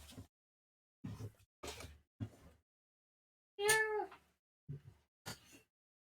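A cat meows once clearly in the middle, set among short soft knocks and rustles, with pauses of near silence between sounds; the cat is a twelve-year-old house pet.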